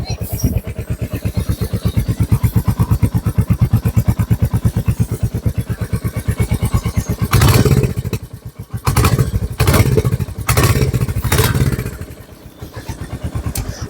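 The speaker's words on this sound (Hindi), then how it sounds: "आइए मैं आपको एक बार दिखा देता हूँ, इसकी एग्जॉस्ट की साउंड भी दिखा देते हैं।" A Royal Enfield Hunter 350 motorcycle idles with a rapid, even exhaust thump close to the microphone, then blips the throttle in a few short revs before settling back to idle; no speech.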